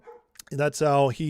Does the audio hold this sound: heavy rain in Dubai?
no